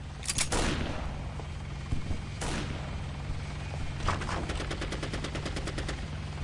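Gunfire fills a Counter-Strike Condition Zero match, beginning with a few heavy, loud single shots. Later comes a fast rhythmic burst of repeated cracks, with no talk over any of it.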